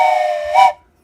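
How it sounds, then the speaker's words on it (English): Steam whistle sound effect played on a live stream, a single loud, clear blast that rises slightly in pitch near the end before stopping abruptly into silence. "Let's start the stream with the Joke whistle"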